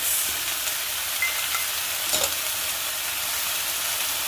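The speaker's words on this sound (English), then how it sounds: "you're just going to saute this just for a minute or so" Onion sautés in a pan for a chicken stir-fry, making a loud, dense, even hiss of sizzling oil close by with only slight flickers of crackle; no voices are present.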